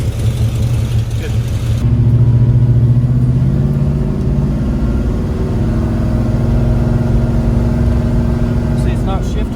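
A Henry J car running on a donor engine revs steadily under load as its automatic transmission is tested in drive, a loud continuous mid-pitched drone with rising and falling harmonics.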